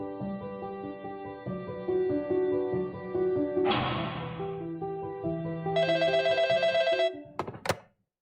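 A telephone bell rings in repeated bursts in a church service setting, loud and close, with a clunk partway through and a final burst before it cuts off abruptly.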